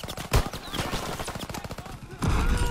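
Rapid bursts of gunfire from a gun in the World War II shooter game Call of Duty WWII rattle in quick succession, a sharp loud blast opening the volley and a dense rumble of battle noise continuing beneath.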